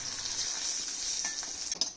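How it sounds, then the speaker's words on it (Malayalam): Grated coconut, curry leaves and cumin frying in coconut oil with spluttered mustard seeds, a steady close sizzle with stirring scrapes and a couple of clacks near the end. "കുറച്ച് വെളിച്ചെണ്ണയിൽ കടുക് പൊട്ടിച്ചതിന് ശേഷം അതിലേക്ക് കറിവേപ്പില, ജീരകം, പിന്നെ അല്പം തേങ്ങാപ്പീര കൂടി ആഡ് ചെയ്യുക"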